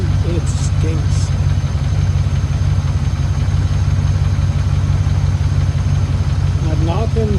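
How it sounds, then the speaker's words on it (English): An old Land Rover engine idles steadily and loudly, with a faint knocking, ticking under the low rumble and a person talking briefly over it. "That knocking, ticking seems to have gone away for the most part."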